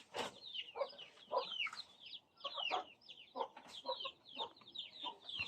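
Rhode Island Red and shamo chickens cluck and chatter close by in a backyard, a busy run of overlapping short calls with no talk.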